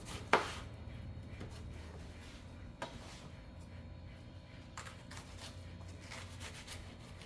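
A knife cuts red onion on a board for a soup, with a few sparse, quiet strikes spaced seconds apart over a soft background hum. No one speaks.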